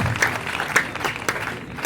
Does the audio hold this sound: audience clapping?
yes